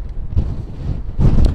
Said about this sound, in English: but we can sure hear those winds.